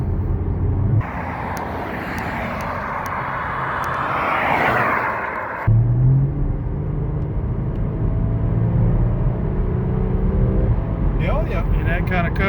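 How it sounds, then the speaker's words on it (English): A Porsche engine runs steadily with a low rumble throughout, a brief shift in tone partway, and some faint background noise. "Yep, I hear the engine"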